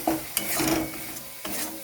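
A spatula scrapes and stirs tomatoes with salt and spices in a pan. Close, gritty strokes and a brief clack sit over a low, steady sizzle.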